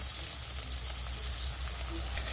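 Chicken chops fry steadily in hot oil, giving a loud, even sizzle that fills the whole stretch with no talking.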